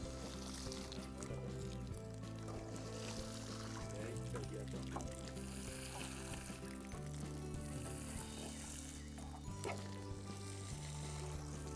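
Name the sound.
water poured while watering plants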